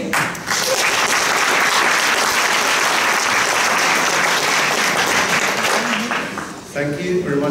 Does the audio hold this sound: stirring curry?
no